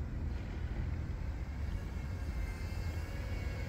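An HGLRC Rekon Y6 six-motor drone on a 1400mAh LiPo battery flies over a park in cold weather, giving a steady, continuous whirring hum with no voices.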